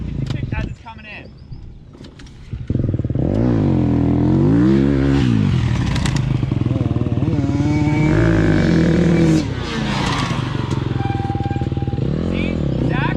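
A motorcycle rides in loud and close, its engine revving and droning while the rear tire ticks under braking, with someone talking over it.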